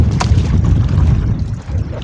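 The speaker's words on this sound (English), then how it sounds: "That's a big gust of wind there." A strong gust of wind buffets the microphone while a canoe is paddled along a shoreline on high, fast water, a continuous low roaring rumble with water movement and no speech.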